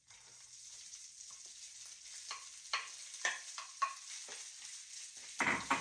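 Rice and sesame seeds hit a hot wok and are stir-fried, giving a soft continuous sizzle broken by several sharp spatula scrapes and tosses, with no talking.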